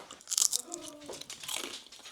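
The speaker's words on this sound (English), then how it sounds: "Now that's a cracker. No, that was crunchy." Someone bites into a crunchy, oil-free homemade lentil cracker, close by and quiet, with a sharp initial crunch followed by a couple of softer crackly chews.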